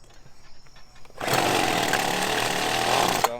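A two-stroke engine on a party blender starts and runs at a steady, loud, buzzing roar for a couple of seconds, close by, after a short quieter lead-in.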